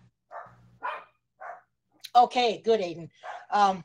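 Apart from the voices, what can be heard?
dogs barking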